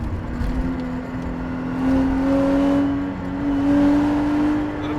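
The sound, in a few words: Lexus IS300 SportCross engine revving to the rev limiter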